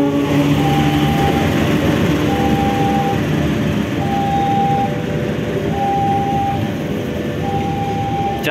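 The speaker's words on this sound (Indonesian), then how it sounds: "Lokomotif CC206-1505" Passenger train hauled by a CC206 diesel locomotive from the Cipinang depot rolling past in Yogyakarta, with loud continuous wheel and engine rumble, a long recurring horn-like whine, and steady carriage noise throughout.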